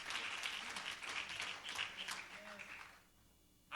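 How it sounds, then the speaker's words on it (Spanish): Church congregation applauding during a worship service, a dense steady clapping wash that fades out near the end, with voices mixed in. "dele al Señor un fuerte aplauso para la honra y gloria de Dios."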